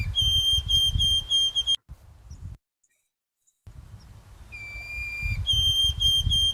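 White-throated sparrow whistled call, a few pure high tones with pitch steps, repeated in bursts at the start and end around a silent gap, over a low rumbling background.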